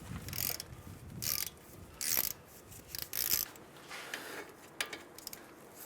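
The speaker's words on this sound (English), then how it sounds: "Now we can come back and torque these 2 caliper bolts down." A torque wrench tightens the brake caliper bolts on a 2015-2019 Hyundai Sonata during a front wheel bearing and hub job. Several bursts of ratcheting clicks come close and fairly quiet, with short pauses between them.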